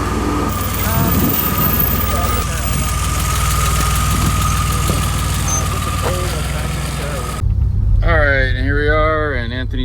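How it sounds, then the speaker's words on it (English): A DeLorean with an automatic transmission drives along with its engine running steadily close to the microphone, a continuous motor drone with some road noise throughout. "Anthony's driving the DeLorean."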